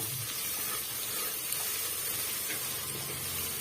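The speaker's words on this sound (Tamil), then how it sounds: "இஞ்சி பூண்டு பேஸ்ட்டை வந்து சேர்த்துக்கலாம்" Ginger garlic paste sautés in a pan for Bombay chutney, producing a quiet, even hiss of gentle frying with no voices.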